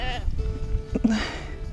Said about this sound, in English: These sheep are really friendly.